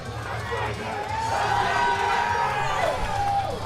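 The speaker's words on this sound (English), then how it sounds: "Crowd is getting hyped here for Nick." A weightlifting crowd at the Auckland Cup cheers and shouts for a lifter named Nick, a loud sustained roar of voices swelling in the middle with whoops and a high tone running through it.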